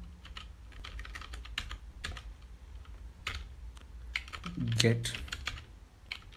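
Computer keyboard keys tapped in an irregular run while a terminal command is entered, close and moderately quiet, with a voice speaking over the typing.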